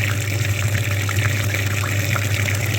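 Water flushing through a car's heater core during a cleaning, a loud, steady rushing gush over a low pump hum, constant throughout with no talk.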